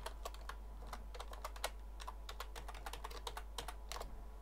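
Steady typing on a computer keyboard while programming an STM32F103 board, a run of crisp, close key clicks in an irregular rhythm with no speech over a low steady hum.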